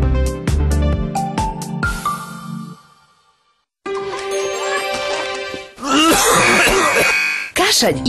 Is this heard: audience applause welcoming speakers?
no